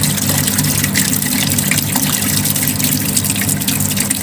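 Water draining from the tank of a fluid mechanics flowmeter apparatus, a steady loud rushing gush like a running tap, continuous and close with no voices.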